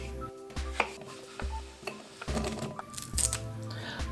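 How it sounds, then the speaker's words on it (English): A knife cuts quartered, peeled cucumber into pieces on a board for a Greek salad, giving a series of irregular crisp taps and clicks at close range, with no one speaking. "Cut the cucumber to quarters and slice it into pieces."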